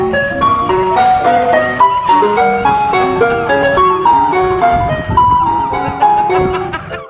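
A bright, tinkling jingle from a toy ice cream truck plays continuously and loudly, its chiming melody repeating steadily with no voices over it.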